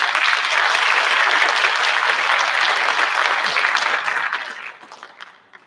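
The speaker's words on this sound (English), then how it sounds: "A round of applause." Audience applause fills a school board meeting room, a dense, steady burst of clapping from a seated crowd lasting several seconds before tapering off into scattered claps.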